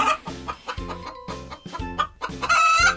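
A chicken clucks in a quick series of sharp, rhythmic bursts, followed by a louder, drawn-out rooster crow near the end. The sound is close and clear, with no voices.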